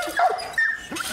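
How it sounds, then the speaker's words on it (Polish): A dog in The Last of Us Part I whimpers and yips in two or three short, high, whiny bursts, close and fairly soft, over a quiet game background. "Piesie."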